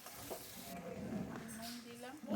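Dried fish curry with green peas is stirred in a pan, a spoon scraping and shuffling through the thick mixture with a soft sizzle, while a voice talks over it.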